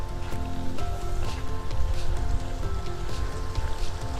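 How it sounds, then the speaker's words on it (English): A small creek runs beside riverside tent sites at a campground, its steady water wash close and continuous with a rustling texture and a faint tonal hum underneath. "you got a little creek running right over here"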